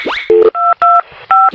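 Telephone tones from an animated phone call as the line drops: a quick rising sweep, then three loud, steady electronic dual-tone beeps in a clipped, even rhythm, with no speech.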